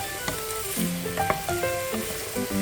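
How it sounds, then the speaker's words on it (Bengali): Onions fry in a pan for a Bangladeshi home-style mutton curry, a close, bright sizzle with scattered pops and crackles over a short stretch, no talking. "এতে আমার পেঁয়াজ ভাজাটা হয়ে যাচ্ছে।"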